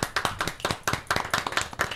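Applause for a guest on a Martinique broadcast special about risky driving: a few close pairs of hands clapping in quick uneven rhythm, fairly loud and near, no talking over it.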